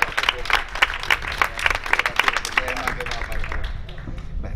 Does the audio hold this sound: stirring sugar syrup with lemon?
no